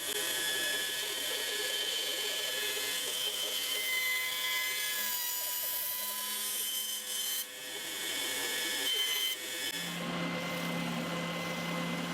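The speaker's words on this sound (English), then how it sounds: "I'm going to cut that off on the bandsaw" A bandsaw cuts a wooden guitar neck blank, running as a steady, continuous whine and hiss that holds for about ten seconds. The pitch shifts and drops near the end as the cut finishes.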